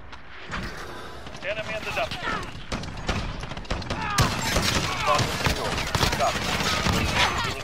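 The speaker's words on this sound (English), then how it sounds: "I unloaded every bullet there" Rapid bursts of video game gunfire crackle loudly and continuously, dense volleys overlapping with excited talk throughout.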